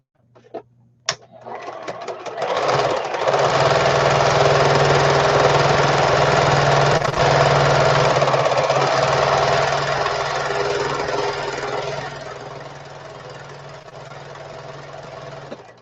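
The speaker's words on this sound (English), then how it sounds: "I'm going to zigzag over that a few times, and that'll solve that problem" A sewing machine runs a zigzag stitch over threads in one long, loud, continuous run that tapers off near the end.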